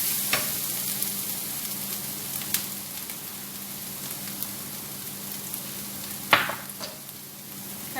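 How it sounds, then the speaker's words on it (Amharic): Ground spices fry in a hot pan with a soft, steady sizzle and crackle, with a few light clinks and one sharper knock of a utensil partway through. "ከዛም በደንብ አድርጌ እጠብሰዋለሁ ማለት ነው"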